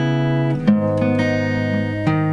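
Simplified riff played on an acoustic guitar, leaving out the second note, a few plucked notes ringing close and clear with no talking.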